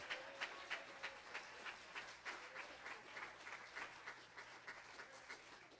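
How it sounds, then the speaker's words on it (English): A church congregation claps in praise, a broad wash of hand clapping with a steady, slightly pulsing rhythm, heard at moderate distance and fairly quiet, with no talk over it. "Let's give the Lord a hand clap of praise."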